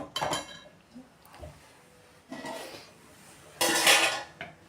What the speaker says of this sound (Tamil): அதனால் உங்கள் இனிப்புக்கு ஏற்ற மாதிரி சர்க்கரையை கொட்டி நல்லா துழவிக்கோங்க.